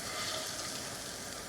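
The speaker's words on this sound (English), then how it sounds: "Make sure that fire on about a medium-high heat, and throw them plantains in there" Plantains fry in olive oil over medium-high heat with a steady, faint, even sizzle and crackle that continues without a break.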